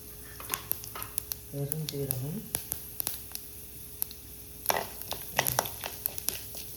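Mustard seeds, urad dal and chana dal dropped into hot oil, crackling and popping in sharp scattered bursts over a low sizzle, with a brief voice partway through.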